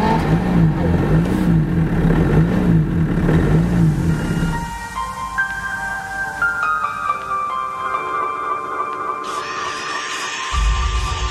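A Mercedes S-Class engine runs and revs loudly with a pulsing throb, then drops away. A series of tonal electronic chimes follows, rising and shifting in steps, before the engine noise swells again at the end.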